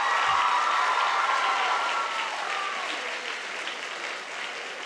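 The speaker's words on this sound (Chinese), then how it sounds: "给自己一个掌声。" Audience applause fills the hall at the awards ceremony of the 2012 Malaysia Chinese orchestra ensemble competition: a dense, steady wash of many hands clapping at once that fades slightly over about five seconds.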